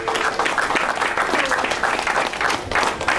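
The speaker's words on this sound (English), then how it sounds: "So a nice round of applause for Doug, please." A crowd claps steadily in sustained applause at a post-fight kickboxing press conference, a dense, even patter that fills the whole moment.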